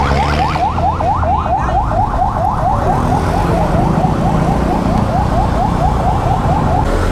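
An emergency vehicle siren wails loudly and steadily in a fast rising-falling cycle on a busy road, heard close by over engine and traffic noise.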